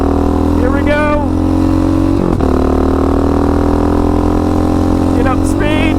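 A Raptor 700 ATV engine revs loud and close, rising in pitch as it speeds up, with a wind-buffeted background and a short shift partway through.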